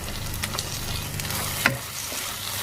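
Tomato curry cooks over a low flame in a pan, giving a steady soft frying sizzle with occasional scrapes and clinks as a spoon stirs it, close up and without speech.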